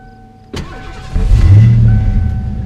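A low-mileage, stock original Ford Fox-body Mustang 5.0 V8 in a parking lot starts up: a sharp crank catches and settles into a loud, steady rumbling idle.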